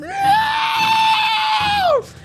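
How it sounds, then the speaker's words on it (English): In a tabletop role-playing game session, a player voices a character screaming out in pain: one loud, sustained, strained cry of about two seconds that cuts off abruptly, with light room noise after. "I scream out in pain."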